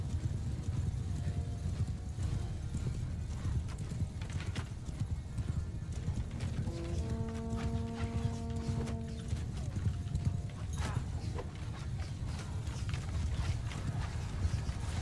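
Horse hooves clip-clop steadily in the medieval battle game Mount & Blade II Bannerlord, a rapid rhythmic patter over a low rumbling background, with a brief neigh partway through.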